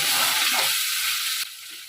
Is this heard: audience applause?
no